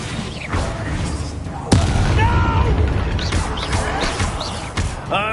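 A fiery Incendio spell blast fired in the video game Hogwarts Legacy, a sharp booming burst that cuts through a busy battle soundscape of crackling effects and background clatter.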